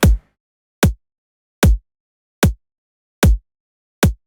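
A punchy dubstep kick drum thumps six times alone at an even, moderate pace, each hit deep and short with a quick decay and silence between, close and loud.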